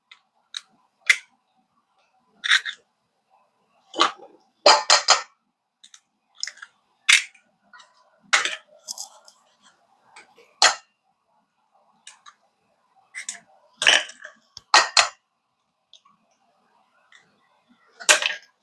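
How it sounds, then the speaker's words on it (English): A whisk beating four eggs in a bowl for lemon bars, giving sharp, irregular clicks and taps of the wires against the bowl in quick bursts separated by short pauses. "And then I'm going to whisk in the eggs."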